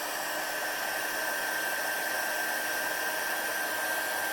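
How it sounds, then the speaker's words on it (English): A handheld heat tool used for embossing blows a steady, unbroken hot-air whir from start to finish, close and fairly loud, with no talking. "you'll want to move your heat tool, not just keep it in one place"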